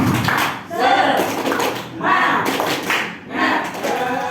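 A group in an Indonesian school setting does a rhythmic tepuk semangat cheer, bursts of loud clapping in a patterned beat that rise and fall in waves, close and busy, with voices mixed in.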